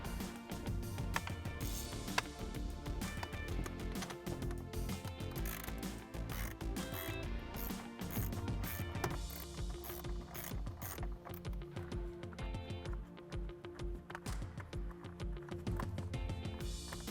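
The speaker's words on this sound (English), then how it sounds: "now we can use our 7mm socket to remove these 2 bolts at the bottom" A ratchet wrench with a 7mm socket loosens the bottom bolts holding the factory radio in a 2015-2022 Ford Mustang, giving steady rapid clicking bursts, close and loud, with no talk over it.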